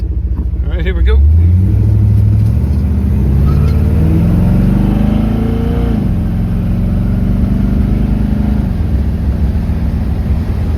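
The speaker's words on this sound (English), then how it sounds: "I'll get out of the neighborhood and get the RPMs up a bit." A 1976 Corvette with a newly replaced distributor revs up while driving, its engine note rising through the gears in loud, close sweeps with an upshift dip, over road and cabin noise.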